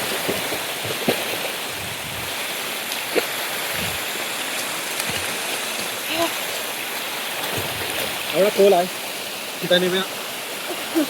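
River water in a deep swimming pool on a Konkan river rushes in a steady, loud broadband wash throughout, with brief voices and splashy bursts of people swimming near the end.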